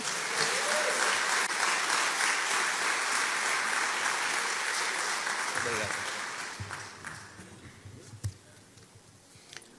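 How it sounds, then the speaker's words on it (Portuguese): Sustained applause from the audience at a Christian college graduation ceremony, loud and dense at first, then thinning and fading over the last seconds into scattered claps. "Você pode recebê-lo com um forte aplauso."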